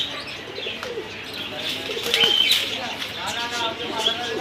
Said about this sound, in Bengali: এটা কবুতর